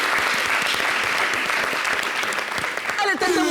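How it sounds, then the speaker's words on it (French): A studio audience at a TV show claps steadily and loudly, continuous dense applause, with a voice cutting in near the end. "applaudissez-moi."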